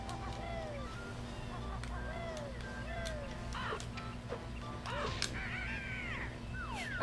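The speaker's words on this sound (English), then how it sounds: "I love the sound the birds make." Bird calls from the Banjo-Kazooie video game repeat as short swooping cries over a steady game soundscape, several calls spaced through the passage with a few sharp clicks between them.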